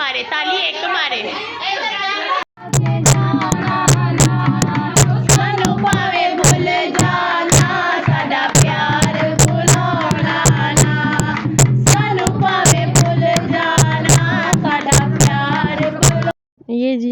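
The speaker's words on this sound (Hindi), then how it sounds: "ये जी आपने सुन ली ढोलक की आवाज़।" Dholak drum beats keep a steady, driving rhythm while voices sing along at a festive mehndi gathering, the drum loud and close with continuous singing and crowd sounds layered over it.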